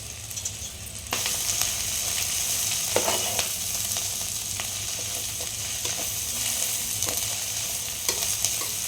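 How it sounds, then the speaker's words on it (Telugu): Amaranth leaves hit a hot pan with a sudden rise into a steady, bright sizzle, broken by occasional spatula scrapes and taps as the greens are stirred and fried. "తోటకూర అన్నీ వేసుకొని బాగా ఫ్రై చేసుకోవాలి"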